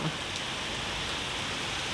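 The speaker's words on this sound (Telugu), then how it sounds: "ఫుల్ వాన పడుతుంది." Heavy rain falling steadily, a dense even patter with no voices, close and continuous throughout.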